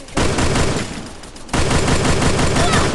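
Gunfire from an SVD sniper rifle in the Free Fire video game, heard as a dense, loud barrage of rapid shots that briefly eases in the middle before surging back, with no talking over it.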